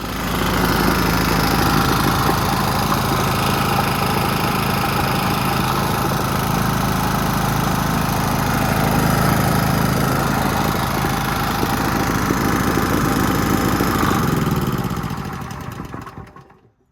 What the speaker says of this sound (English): I'm gonna let that run out there at low throttle for about half hour or so